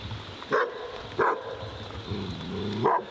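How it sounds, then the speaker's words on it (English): Three sharp dog barks spaced apart, fairly close, over a steady background of wind and ambient noise, outdoors in the Balkans. "What are you barking at?"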